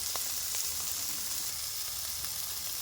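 Ground turmeric and red chilli powder sizzling as they hit hot oil in a pan for a bitter gourd curry, a steady close hiss with faint stirring clicks and no voices.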